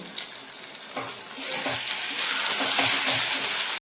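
Dry spices, including ground coriander, cumin, garam masala, red chili powder, turmeric and salt, frying in a pan for a sanker fish curry, a loud close sizzle that swells partway through and then cuts off abruptly.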